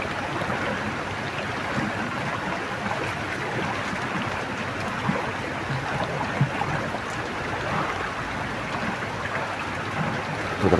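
Rain falls outdoors in a steady, even hiss that holds at moderate loudness throughout, with no talking.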